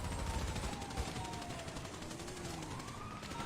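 Gunfire in GTA 5 crackles in bursts over a wailing police siren that sweeps up and down, with rumbling low noise beneath and no voices.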